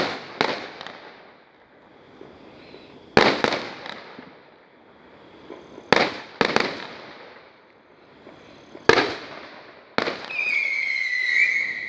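A fireworks show of about 100 shots, with sharp explosive bangs arriving at irregular intervals of a few seconds, each trailing off into a crackling decay, and a whistling or crackling shell near the end.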